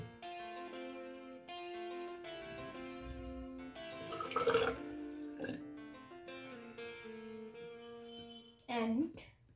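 Water poured into a glass measuring cylinder during a soil water-holding-capacity practical, heard in a couple of short splashing bursts with a rising filling tone near the end, under a steady speaking voice.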